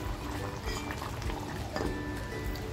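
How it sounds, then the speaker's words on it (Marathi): Masala curry bubbling and simmering in a clay pot off the heat, a steady close bubbling and faint popping running throughout without pause. "गॅस बंद करून 5 मिनिटं झाली होती तरी आपला मसाला बघा किती छान उकळतोय"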